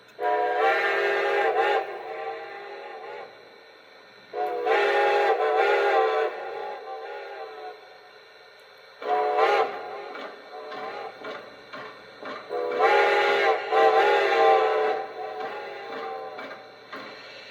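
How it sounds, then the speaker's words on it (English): The ghost whistle of a Lionel Strasburg 90 model train set sounds in four separate drawn-out blasts with quiet gaps between, eerie and wavering, each breathy and slightly quavering. "Here's the ghost whistle feature that you can activate by pressing the aux 3 key."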